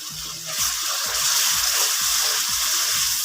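Water is poured into masala frying in a pan for turnip curry, giving a steady hiss and sizzle with a rush of liquid partway through that continues alone.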